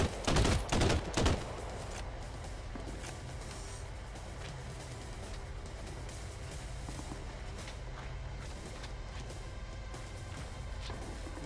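Gunfire from a sniper in the heist game Crime Boss: Rockay City cracks out in a quick cluster of loud shots, then gives way to a steady rumbling background of game ambience.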